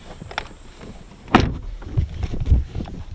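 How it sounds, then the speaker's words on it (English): Rear door of a 2017 Porsche Panamera swung shut from inside the back seat, a single solid thunk partway through, followed by quiet cabin rustling. "Let's close the door."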